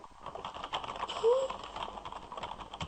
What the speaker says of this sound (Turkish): Bu arada tuş sesleri geldiği özür dilerim.